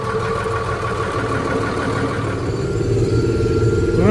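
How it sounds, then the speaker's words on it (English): Farm tractor engine running steadily at idle, a continuous low rumble that swells slightly louder toward the end, with no voices. "let me get this tractor started."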